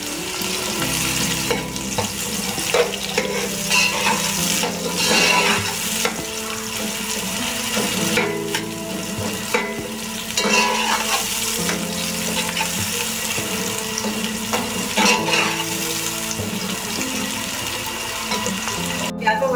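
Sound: onions frying in hot oil

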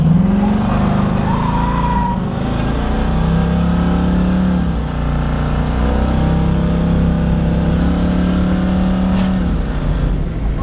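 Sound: 1970 Chevrolet Camaro driving on a road

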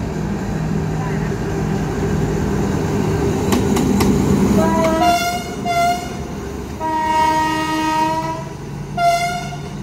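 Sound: diesel locomotive running light to form train 201

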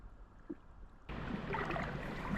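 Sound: rushing water of a possible waterfall on the river

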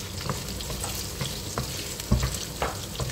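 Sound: garlic frying and being stirred in a pan

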